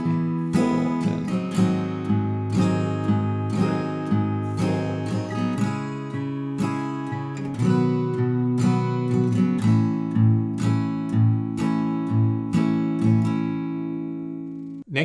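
Guitar strumming the verse chord progression of a song, including an F bar chord, played steadily in repeating rhythmic strokes with ringing chords, close and alone without talk.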